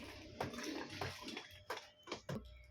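Water poured by hand into a bucket while liquid detergent is being mixed, splashing in a run of uneven gushes and sloshes with short pauses between them, fairly quiet and close.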